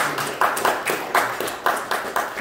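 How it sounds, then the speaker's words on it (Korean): A church congregation claps in a steady rhythmic beat during a service, a group of hands clapping together at moderate loudness with a little room echo and no talking over it. "하나님께 영광의 박수"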